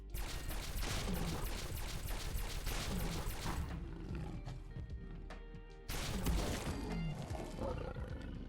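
Fallout 4 combat against a Deathclaw using a modded energy weapon: loud, dense roaring and a steady rush of weapon fire, with a brief dip before a renewed burst of roars and shots near the end.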